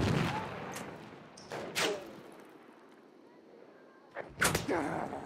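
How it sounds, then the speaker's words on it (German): A grenade bursts in Battlefield 1 amid gunfire, with sharp blasts around 1.6 s and again near 4.4 s over a busy battlefield background of scattered shots. "Werfen wir mal eine Granate."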